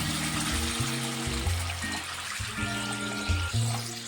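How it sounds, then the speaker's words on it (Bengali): Broth being poured into a pan of fish curry: a close, continuous watery splashing and trickling, with uneven bubbling pulses throughout the short pour. "এবারে ঝোল দিয়ে দেব।"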